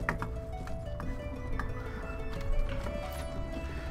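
Horse hooves clip-clop at a gallop with a short neigh in the medieval combat game Mount & Blade (Prophesy of Pendor), steady rhythmic thuds close by amid battle noise.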